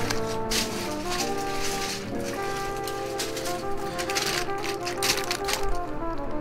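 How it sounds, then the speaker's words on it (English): Rapid, continuous clacking of a mechanical keyboard fitted with GMK Triumph Adler keycaps, dense overlapping keystrokes with a bright, busy texture throughout, close and steady with no pauses. "Try and plug this because I'm typing right now."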